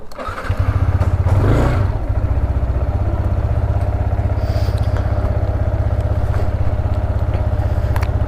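A motorcycle engine starts and settles into a loud, close, steady idle-like rumble with a rapid even pulse, setting off on a monsoon ride from Pune in Maharashtra; no talking.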